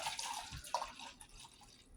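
Alcohol poured into a measuring cup, with a brief liquid trickle and splashy pour that swells near the middle and then tapers off, fairly quiet and close.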